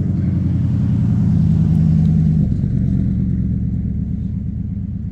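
Cars with loud mufflers rumble past nearby, a deep continuous engine drone that swells and shifts as the vehicles go by, heard alone without talk.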